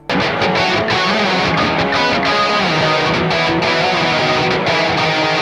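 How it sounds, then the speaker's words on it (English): Dense, distorted rock guitars in several stacked layers panned around the stereo field play continuously, loud and full, with no voices. "After stacking several layers together of various guitar sounds and panning them around the ear"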